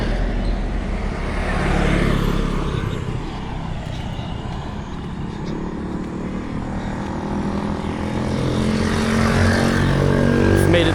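Traffic on a main road in Vietnam rushes past the listener in close, loud swells, with car and motorbike engines building and fading around two to three passes.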